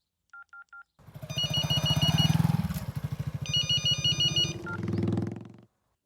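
A phone rings with a warbling electronic ringtone in two repeated bursts, preceded by short beeps, loud and close.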